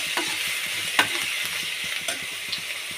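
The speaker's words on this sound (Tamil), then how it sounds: "எண்ணெயில் நல்லா வதக்குங்க. கொத்தமல்லி, கருவேப்பிலை போட்டுக்கலாம்." Prawn masala sautés in oil with coriander and curry leaves, a steady, bright hiss of frying with light repeated taps and scrapes of a spoon stirring in the pan.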